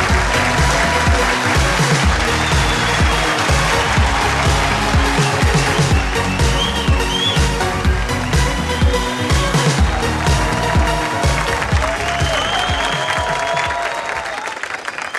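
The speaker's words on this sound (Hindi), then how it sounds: "जोरदार तालियों के साथ स्वागत किया जाए" Sustained, loud studio audience applause welcoming an actress onto a Hindi television talk show, steady dense clapping that fills the whole stretch and eases slightly at the end.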